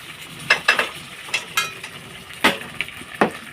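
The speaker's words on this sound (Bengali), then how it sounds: "ফোড়নটা সব ঢেলে দেবো এই সারাশি দিয়ে ধরে নিই তো এই যে ঢেলে দিয়ে দিলাম" Hot spice tempering poured into khichuri crackles and sizzles in several sharp, quick bursts, close and fairly loud, with short quiet gaps between the spits.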